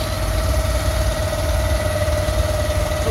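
An engine on a pressure-washing service van with a hot and cold steam washer setup idles in a steady, close, even drone with a constant low hum, and no voices.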